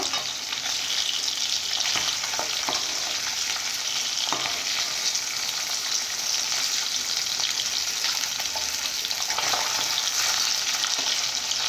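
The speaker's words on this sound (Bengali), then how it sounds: "মাছগুলো এইভাবে ভালো করে ভেজে নেব" Fish pieces frying in hot oil in a pan, a loud, steady, close sizzle that runs without a break, with occasional faint clinks of stirring underneath.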